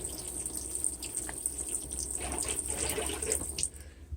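Water running from a faucet inside an RV during winterization, a steady, close splashing stream into a sink with small fluctuations, no talking.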